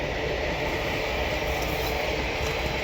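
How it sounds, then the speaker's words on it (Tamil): A train rolls past in a steady, continuous broadband roar, loud and close throughout with a dense low rumble, no voices over it. "இந்த பக்கத்தில் பார்த்தீங்கன்னா ஒரு ரயில் போயிட்டுருக்கு"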